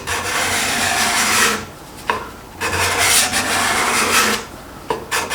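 A steel cabinet scraper's edge being worked with an Accu-Burr burnisher, giving loud raspy rubbing strokes in three or four long passes separated by brief pauses and small clicks, close up and without talk.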